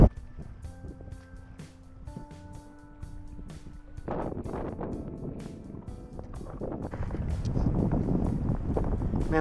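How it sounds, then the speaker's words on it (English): Wind gusting across a Hobie Compass kayak out on open water, a steady broadband rush that swells and grows louder toward the end, with faint tonal hums early on. "The wind's really picked up."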